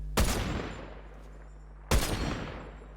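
Two loud sniper rifle shots in Fortnite, each a sharp crack with a booming tail, spaced nearly two seconds apart.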